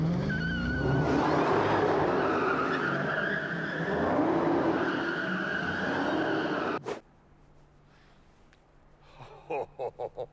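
A car does donuts inside a Detroit theatre converted into a multi-storey car park, with loud sustained tyre squeal and engine roar echoing for several seconds before cutting off abruptly, followed by quiet with a few short bursts near the end.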